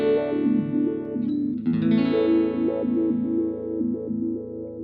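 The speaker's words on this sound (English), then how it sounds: "Here I decided to switch the comb filter topology to biquad." Paine Peaks synth plugin playing its Southern Peaks preset with a biquad comb filter, giving a loud, bright, buzzy sequenced tone whose pitch steps up and down in a steady pattern, with no one talking.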